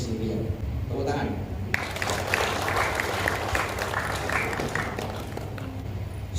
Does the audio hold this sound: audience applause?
yes